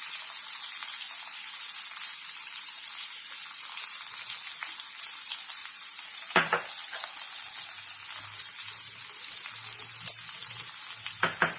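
Potato filling with sugar and salt being stirred in a pan: a steady soft sizzle with occasional spatula scrapes and knocks, close and moderate in level, with no voices.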